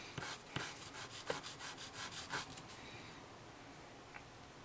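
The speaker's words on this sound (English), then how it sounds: "Sand each and every one of them till the notches are gone." Sandpaper rubs over small plastic Gundam model kit parts to smooth away the sprue notches, making a series of close, soft, rhythmic scratching strokes that fade into quieter rubbing.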